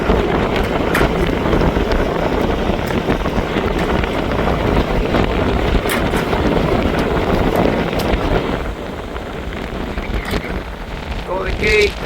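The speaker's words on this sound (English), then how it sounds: "there's a bit of a breeze on. We got wind against tide." Wind blowing hard on a sailboat near the Golden Gate, with wind against tide, a loud continuous rush and buffeting across the microphone that eases slightly toward the end.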